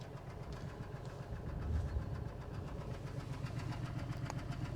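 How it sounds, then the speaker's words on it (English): A car engine runs steadily with a low, rumbling exhaust throb, close by and continuous, with faint clicks over the top. "That seems to be kind of a slow exhaust."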